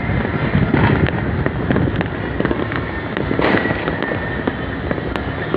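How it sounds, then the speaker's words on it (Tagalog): Dense New Year fireworks crackle and pop continuously over Metro Manila, with many overlapping bursts near and far and steady wind-like rumble underneath, loud throughout. "Buboso ang Metro Manila dahil sa paputok."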